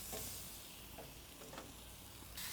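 Small fish pieces searing in avocado oil on a very hot griddle, a dense, close, steady sizzle with crackling pops that swells again at the end, with no talk.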